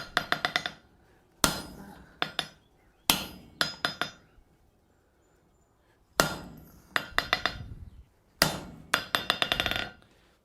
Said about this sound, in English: we're just going to hammer from the back side